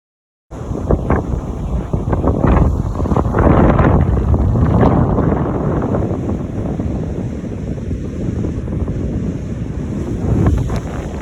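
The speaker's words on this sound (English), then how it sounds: "It's a windy, chillier day here in South Carolina" Strong wind buffets the microphone on a chilly South Carolina beach, roaring steadily with surf washing in beneath it for the whole stretch.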